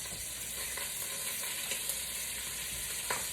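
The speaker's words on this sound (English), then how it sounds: "We're going to add our sweet onions" Sweet onions sizzle with caramelized sausage in a Le Creuset pot, a steady broadband hiss with occasional soft clicks and stirring scrapes, close and continuous with no talking.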